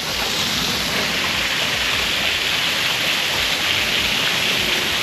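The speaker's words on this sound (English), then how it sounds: "I guess we found the waterfall." Steady, dense rush of falling water from a waterfall in Macau, a continuous broadband roar holding an even loudness throughout with no voices over it.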